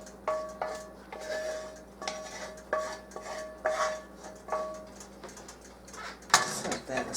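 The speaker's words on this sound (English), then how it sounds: "I'm going to dump all this in with my veggies." Cooked ground turkey being dumped from one pan into another holding vegetables, with repeated clinks and scrapes of metal cookware and utensils, close up, and a louder clatter near the end.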